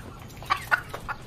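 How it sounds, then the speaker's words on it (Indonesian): Chickens on a chicken farm in an animated series give four short, clipped clucks spaced about a fifth of a second apart, moderately close over a low background hum. "Shin berpindah ke tempat peternakan ayam"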